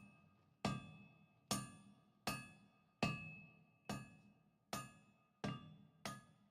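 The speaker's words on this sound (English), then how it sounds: "Distantly, you hear the metallic chime of metal on metal and the low chorus of a work song" Hammers strike a metal anvil in a fantasy forge in Pillars of Eternity, eight clear ringing blows at a slow, even pace, each chime decaying before the next, with nothing else heard.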